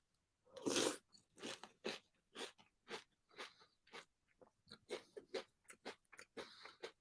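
Crunchy Nut cereal being chewed close to the mic: a string of sharp, rhythmic crunches, loud bites at first, then quicker, softer chomps with small gaps between them.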